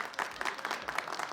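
Audience clapping and cheering at a comedy panel show, a dense patter of hand claps with several louder bursts, steady throughout.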